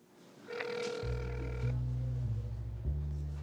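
A telephone rings on an outgoing call to a talent agency, with a few electronic ringing tones over a low steady hum, heard close up before anyone answers.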